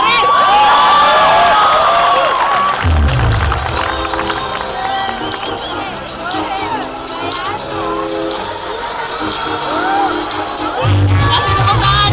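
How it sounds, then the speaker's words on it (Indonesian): A crowd at a stage show in Jember, tied to the Jember Fashion Carnaval, claps and cheers loudly with shouts and whoops, a thick roar held for the whole stretch with voices mixed in. "Kita kasih tepuk tangan yang paling kencang untuk Dinar Faris."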